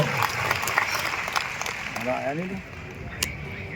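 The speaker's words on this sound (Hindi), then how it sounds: "एक बार हुकुमचंद यादव के लिए ताली बजाओ" A crowd at a political rally claps in a broad, rolling wash of applause that thins out toward the end, with a voice speaking over it.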